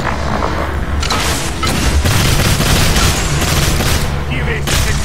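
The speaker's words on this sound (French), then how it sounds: "Tire de très gros calibre" Heavy-calibre gunfire in the video game Evolve, loud booming bursts fired in rapid succession that keep up almost without pause for several seconds.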